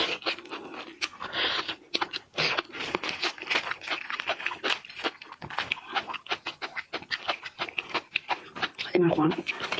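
Crunchy chewing of crayfish full of roe: close, loud, irregular bites and crackling crunches repeat throughout, with a person talking between mouthfuls.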